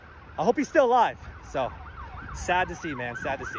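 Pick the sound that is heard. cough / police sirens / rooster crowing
police sirens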